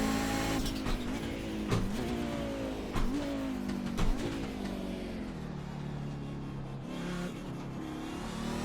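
Race car engine in a racing video game on a reverse lap of Monza, revving continuously with pitch rising and dropping through repeated gear shifts, loud and steady throughout with no talking.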